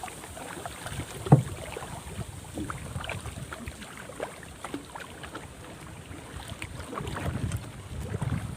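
Small rowboat paddled on the water near Kampot, with soft, steady wash and dull knocks of the oars. A brief knock sounds near the start, light wind noise runs underneath, and the water swells louder toward the end.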